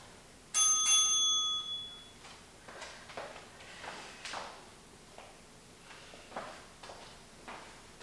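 A workout interval timer rings once with a bright, bicycle-style bell ding near the start, then fades out beneath soft shuffling and the muffled thuds of movement.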